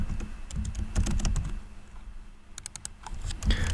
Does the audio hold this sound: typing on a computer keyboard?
yes